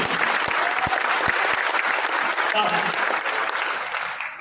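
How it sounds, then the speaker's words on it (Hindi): A large seminar audience breaks into loud, sustained applause, many hands clapping densely and steadily, with a speaker's voice faintly audible over the clapping. "एक बार कसम से अपने के लिए ताली बजाइए"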